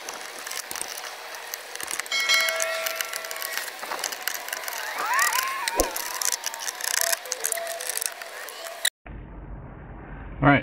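Screws being removed from an interior panel of a 2014-2020 Chevy Impala: close ratcheting and whirring of a driver tool in bursts with small metallic clicks, ending with a brief voice.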